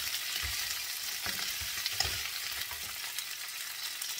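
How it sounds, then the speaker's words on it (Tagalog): Boiled chicken feet tossed into a pan with browned spices, frying with a steady hiss while a spatula stirs them in soft, periodic scraping thuds; no one speaks. "at ilagay na natin ang ating chicken feet na pinakuluan. Ayan. Haluin lang natin."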